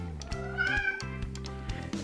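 A house cat meows indoors, several drawn-out tonal calls close to the listener, one after another with short gaps between them.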